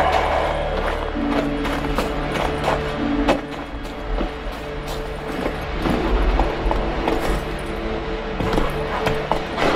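A horse gallops in The Witcher 3 on Skellige, its hooves beating a steady, fast clip-clop rhythm close by over a low, continuous ambient bed for the full stretch.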